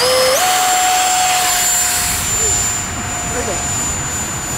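A small RC jet with a 50 mm electric ducted fan takes off, its high, loud whine rising sharply in pitch and then holding steady and close over a broad rushing airflow noise.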